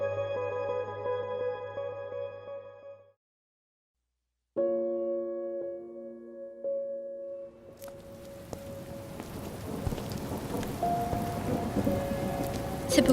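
Steady rain with rumbling thunder in a radio drama, starting after a short music sting and a brief silence, then building into a dense, close downpour that fills the rest of the scene.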